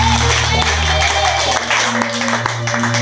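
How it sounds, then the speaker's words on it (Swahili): A church congregation claps and ululates in praise, a dense steady wash of clapping with high trilling voices over music, loud and continuous throughout. "Pigia Yesu makofi na vigelegele."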